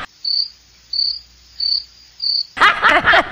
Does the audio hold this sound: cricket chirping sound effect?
yes